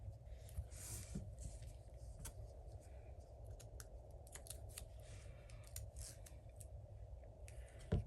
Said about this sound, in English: I'm gonna cut it at this straight piece.